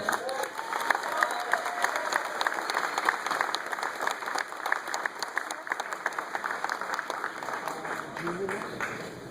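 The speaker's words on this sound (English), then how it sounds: "Once again, big round of applause for Miss USA 2015, Sam." Audience applause at a Miss USA 2015 event: dense, sustained clapping from a large crowd with some cheering, steady and loud throughout the clip.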